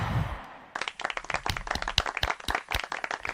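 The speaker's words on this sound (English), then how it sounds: "And the talk erupted in applause" An audience breaks into applause, loud and close, with dense rapid clapping after a brief murmur of noise.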